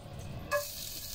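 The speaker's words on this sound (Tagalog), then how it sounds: "Gigisa lang muna natin yung yung mga star anise, black pepper, ginger" Star anise, black pepper and ginger hitting a hot pan, a soft sizzle that rises abruptly midway and holds as a steady hiss.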